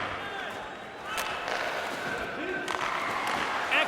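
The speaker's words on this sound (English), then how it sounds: "You can feel the energy in this crowd." Hockey arena crowd in an NHL video game cheering during a Tipsport liga playoff final between HC Slovan Bratislava and HK Nitra, a steady roar with sharp thuds and clatter, under voices talking.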